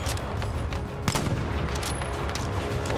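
Gunfire in the video game Battlefield V, including sniper shots, a busy battlefield din with several sharp cracks and distant rattling bursts under constant background rumble.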